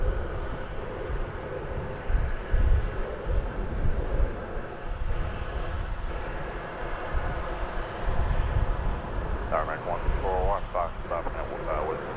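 A Cathay Cargo Boeing 747 bound for Anchorage roars steadily at DFW Airport, a continuous broad jet rumble with a voice talking over it.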